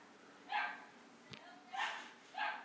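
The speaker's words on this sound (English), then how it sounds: "My dogs are going crazy." Dogs bark in three faint, muffled bursts, seemingly from outside or another room, against a low steady background hiss with a brief click between them.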